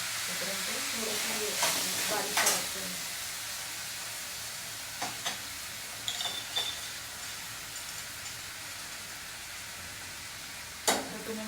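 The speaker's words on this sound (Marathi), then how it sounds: "आणि कढीपत्ता आणि जिरे ते मस्त फ्राय" Curry leaves and cumin frying in oil in a home kitchen, a soft continuous sizzle broken by scattered clinks and stirring knocks, with some quiet talk in the background.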